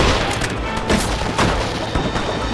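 Gunfire booms during the Assault on Fort Mercer in the Xbox game Red Dead Redemption: several sharp shots and heavier blasts crack out in quick, irregular succession.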